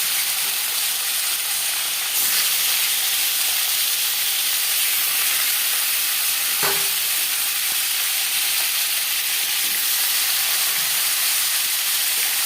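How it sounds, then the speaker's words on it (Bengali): Marinated rohu fish pieces fry in hot refined oil, a loud, dense, even hiss of bubbling oil that holds steady throughout, with one sharp clack partway through. "4 চামচ রিফাইন্ড অয়েল গরম করে নিয়েছি। দিয়ে দিলাম ম্যারিনেট করে রাখা মাছ।"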